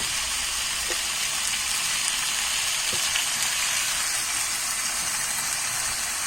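Potatoes dropped into hot oil with browned country chicken curry, giving a steady loud sizzle and hiss throughout with a couple of brief clatters, no voices.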